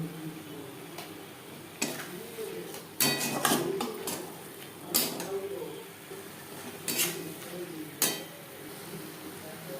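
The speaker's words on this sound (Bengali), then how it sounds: "মশলার সাথে বেশ ভালো করে মিক্সড করে দেব" Chicken with spices being stirred in a pan, with intermittent metallic scrapes and clinks of a utensil against cookware over a low background, close by, in irregular bursts.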